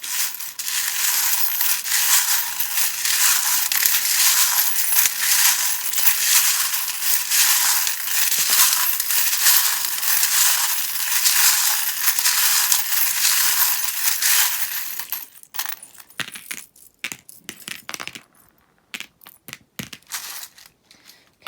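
Metal tarot charms are shuffled together in a continuous jangling, clinking rush for about fifteen seconds, close and loud, then thin out into scattered separate clinks and rattles.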